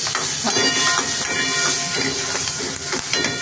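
Asafoetida sizzling in hot oil as a tempering for Puneri-style dal, a steady, loud crackling hiss that fills the whole stretch without pause.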